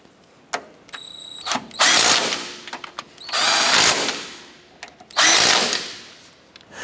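Power tool running down the nuts on an upper control arm of a 2008-2012 Honda Accord: three loud whirring bursts, each a couple of seconds long, separated by brief clicks and handling noises.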